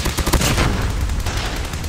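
Rapid automatic fire from a PP19 Bizon submachine gun in Call of Duty Mobile, a dense, loud burst of shots running continuously for a couple of seconds.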